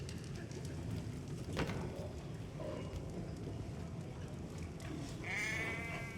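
Sheep bleat in Assassin's Creed III Remastered, a few short wavering calls over a steady outdoor bed of wind and ambient game noise, with one clearer bleat near the end.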